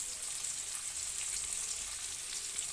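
Hilsa fish fry in hot oil in a pan, giving a steady, even crackling sizzle that stays constant and fairly quiet throughout.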